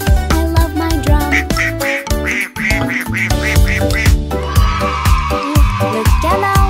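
Cartoonish duck quacks repeat in quick rhythmic runs over a bouncy children's nursery rhyme with drums, loud and upfront against the music.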